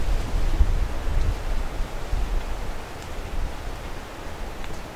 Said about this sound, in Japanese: 柔らかい風が とても気持ちよく吹いております。